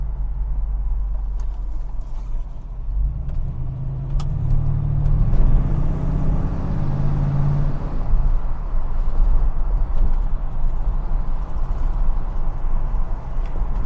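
A 1970 Chevrolet El Camino Custom with a 350 V8 revs while driving on back roads, a loud low engine rumble swelling into a throaty rise midway and holding steady under road noise, no talking.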